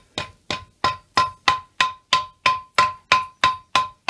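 A hammer strikes Damascus steel during a forge weld on a short sword, about a dozen loud, ringing blows close by at a steady, even pace.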